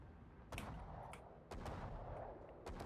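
Warship secondary guns firing in World of Warships during an operations battle aboard the Mecklenburg, with four sharp reports spaced about a second apart over steady low rumble, and no voices.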